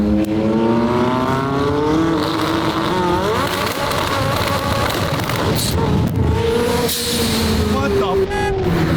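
A 1300 wheel-horsepower McLaren 720 GTR revs hard in a burnout, its engine rising and falling in loud sweeping pitches close by, with tire roar and excited voices shouting over it.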